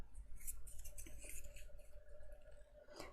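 Scissors handled during a crafting session, giving a few faint clicks and light metallic taps over a steady background hum, with no talking.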